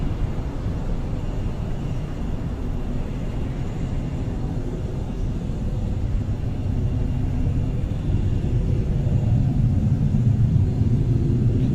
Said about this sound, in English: And we have liftoff of Electron from Rocket Lab Launch Complex 1